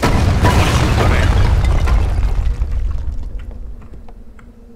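Cannons fire in the real-time strategy game Age of Empires 3, a loud, dense rumbling barrage of booms that gradually fades into scattered softer battle noise.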